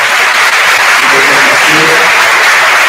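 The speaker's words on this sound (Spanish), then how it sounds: "Reiteramos con un aplauso para Jasmine Lanzarralde." Applause from an audience at an architecture workshop talk, a loud, dense, continuous wash of clapping with faint voices murmuring beneath.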